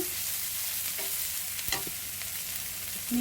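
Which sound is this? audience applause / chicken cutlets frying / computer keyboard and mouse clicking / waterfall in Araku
chicken cutlets frying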